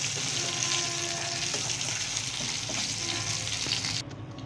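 Fish frying crisp in oil in a pan gives a steady, close sizzling hiss that runs unbroken, then drops suddenly quieter near the end, with no voices.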